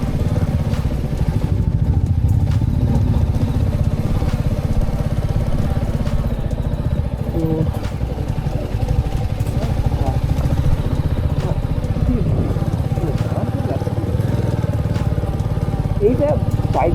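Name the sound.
motorcycle riding on a mountain road in Sikkim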